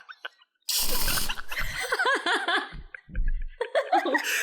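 A woman imitates a fart with her mouth, producing a sputtering, buzzy raspberry close to the mic, followed by laughter and chuckling from several people.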